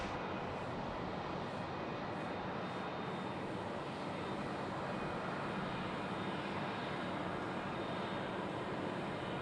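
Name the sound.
aircraft taxiing past toward runway at Sydney Airport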